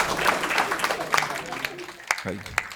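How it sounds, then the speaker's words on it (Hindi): Audience at a Hindi poetry recital gives a short burst of clapping with some crowd noise, and a voice talks over it, with the applause thinning toward the end. "आप अपने सम्मान में एक बार जोरदार तालियां बजाओ"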